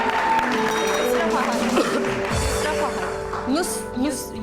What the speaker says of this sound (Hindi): युसरा के लिए बहुत सारी तालियां जी।